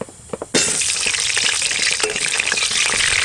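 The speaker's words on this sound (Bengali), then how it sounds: "তেলের ওপর কিন্তু আলু ছেড়ে দেবো আলু ভাজবো" Potato pieces drop into hot oil and burst into a loud, close sizzle after a few quiet clicks, the frying hiss holding strong and steady with small crackles throughout.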